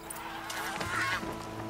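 Honking, goose-like bird calls in Horizon Zero Dawn, played on PS5, ring out in a short, steady burst over continuous game ambience, with no talking.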